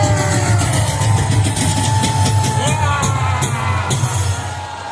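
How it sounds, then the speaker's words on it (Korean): Large rally crowd in the plaza outside Busan Station giving a pastor a standing ovation: loud, dense, continuous cheering and clapping with shouts, close and steady throughout. "목사님을 기립박수로 모시겠습니다."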